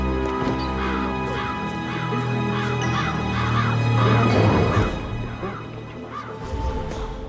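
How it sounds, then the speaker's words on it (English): Birds in Hitman 3 giving a run of repeated, regular harsh caws and honks over a steady, busy game ambience, growing denser in the middle. "I'll never get rid of those stupid birds."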